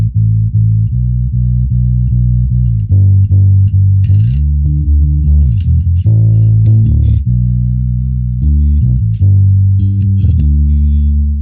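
Electric bass played through a bass amp with a microphone in front of the speaker cabinet, delivering steady low melodic notes with a slightly driven, effected tone, loud and continuous with no talking.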